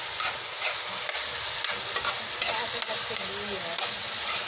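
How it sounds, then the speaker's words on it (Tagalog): Potatoes fry and sizzle steadily in a pan for an eggplant torta, with scattered crackles and stirring clicks at moderate volume, no speech. "niluluto na namin yung patatas para sa ating torta"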